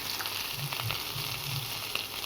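Onion, already browned, sizzles in hot oil with ginger and cumin paste just added, a steady close crackle with faint stirring scrapes and no voices.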